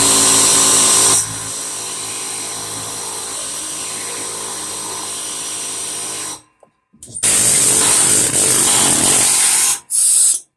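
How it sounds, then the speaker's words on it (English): Air chisel working on a Husqvarna axle seal, a loud, continuous high-pitched pneumatic buzz that runs for several seconds, breaks off briefly, then returns in a second strong burst before a short gap and final blast. "every once in a while I'll hit it with an air chisel"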